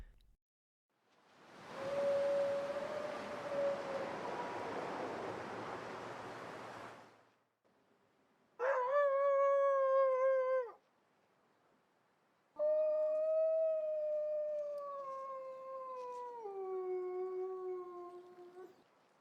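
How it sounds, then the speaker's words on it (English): Gray wolf howls in the video game The Long Dark: a breathy windy rush, then a short tonal howl and a longer wavering howl dropping in pitch, loud and clear with pauses between. "Another trick for detecting gray wolves is their howls."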